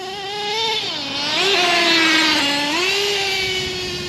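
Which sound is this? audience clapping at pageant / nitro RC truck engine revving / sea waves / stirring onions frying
nitro RC truck engine revving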